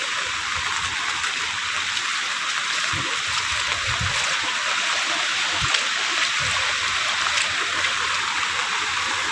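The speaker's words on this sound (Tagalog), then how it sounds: "maapaw na yung tubig dito sa amin" Typhoon floodwater rushes steadily past a home, a loud continuous roar with occasional low thumps, with no voices over it.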